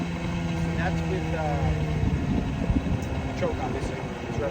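Outboard motor on a sailboat running on choke, a rough mid-pitched engine drone with uneven revving surges, heard close with someone talking over it.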